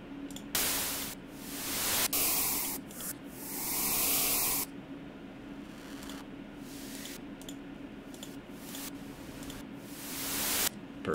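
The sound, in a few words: white noise riser effect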